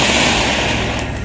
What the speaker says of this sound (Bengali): বোম ব্লাস্টেড।